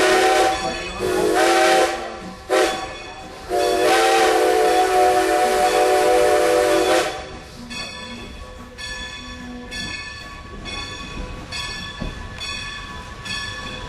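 Steam locomotive whistle from Strasburg Rail Road #90, loud and close, sounding in long blasts of a couple of seconds each with short breaks, then trailing into a quieter stretch of train running noise with rhythmic clatter.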